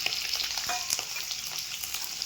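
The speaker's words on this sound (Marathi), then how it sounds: "इकडं आई पनीर तळून घेते तेलामध्ये" Paneer fries in hot oil, making a dense, steady bright sizzle with small pops and crackles throughout, close and even in level, with no talking.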